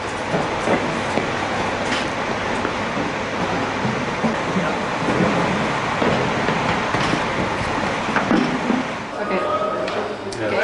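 A ride train at Space Mountain, Disneyland Paris, rumbles past with steady, loud rolling and rattling noise, faint clicks of the wheels over the rails throughout.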